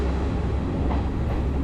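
Steady rumble and rattle from inside a passenger train running from Colombo toward Kandy in Sri Lanka, a continuous close, even roar of wheels on track with no voices.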